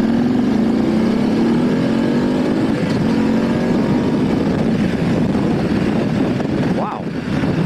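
A 2019 BMW F 850 GS motorcycle pulls away from 15 mph in second gear, its engine note rising steadily and loud, with a brief dip near the end as it shifts or eases off, wind noise throughout.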